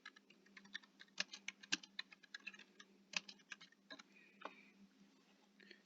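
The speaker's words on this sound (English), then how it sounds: "you're going to go to Google and you're going to type in Jerry C. Thomas CFP." Typing on a computer keyboard to enter a search into Google: a steady run of close, crisp key clicks with irregular rhythm and occasional heavier strokes, with no voices.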